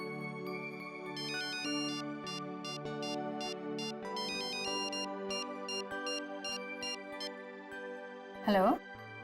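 A phone ringtone plays while a woman calls her mother, a repeating melodic electronic pattern of bright tones in a steady rhythm lasting most of the stretch, with a brief swooping sound near the end.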